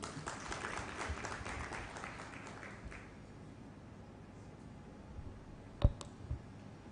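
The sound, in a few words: round of applause from audience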